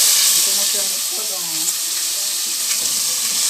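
Chicken pieces frying in a pan of hot oil for a Haitian dish, giving a steady, close broadband sizzle and hiss throughout with faint voices underneath.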